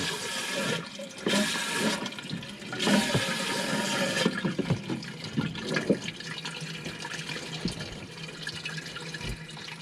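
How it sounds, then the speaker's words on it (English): An RV toilet flushes with a rush of water, gurgling and draining, followed by lighter trickles and drips as it settles. "Put lots of water in it every time to flush, and that toilet paper should be gone."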